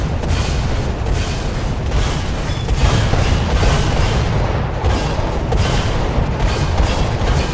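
Naval guns fired by AI gunners in War Thunder boom loudly and almost continuously, dense overlapping blasts and rumbling impacts filling the whole stretch without pause.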